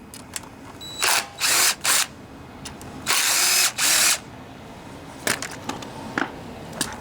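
Power tool driving a 10mm socket to remove bolts on a Ryobi pressure washer's Honda GCV 160 engine, several short loud whirring bursts close by, followed by faint clicks and handling.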